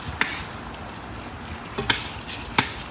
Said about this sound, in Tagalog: We fry the rice.